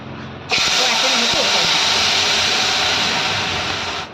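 A sudden loud hiss erupts and holds steadily for several seconds, then cuts off, as water is poured into hot oil tempered with cumin, curry leaves and asafoetida, close by.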